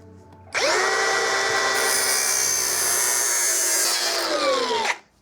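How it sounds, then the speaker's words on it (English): An angle grinder with a cutting wheel slices through a link of a Honda Shadow motorcycle chain, spinning up sharply into a loud, continuous high-pitched metal-cutting whine that holds steady for about four seconds before winding down abruptly. "So I actually have a cutting wheel already on my grinder. I'm just gonna use that."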